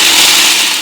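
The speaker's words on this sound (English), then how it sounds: "You just want to pulse the nuts a couple of times to break them up" A blender pulses to chop hard nuts for date energy truffles, producing a loud, continuous whirring grind that holds steady across the short burst.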